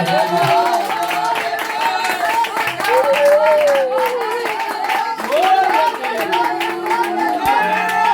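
Worship congregation clapping hands at a revival service, a steady mass of claps under loud singing and music that carries throughout.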